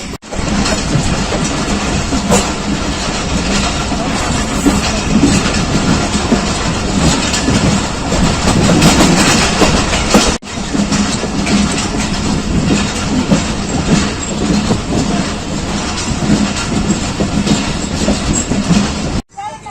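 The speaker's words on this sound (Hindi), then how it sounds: "हज़ारा एक्सप्रेस पर सफ़र करते हुए" The Hazara Express passenger train running on rails in Pakistan during rain, heard from on board: a loud, continuous rumble with steady wheel clatter and rattling throughout, briefly dipping midway.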